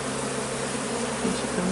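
Honey bees buzz thickly around a hive frame as a queen is introduced, a dense, close, continuous hum filling the whole moment.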